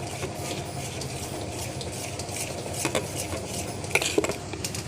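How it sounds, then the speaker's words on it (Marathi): Dhokla batter is whisked in a bowl after soda is added, a steady quick stirring scrape with a few sharper clinks of utensil against the vessel, close and moderately quiet, with no talk. "आणि सोडा टाकल्यानंतर ते मिश्रण छान फेटायचं आहे आपल्याला"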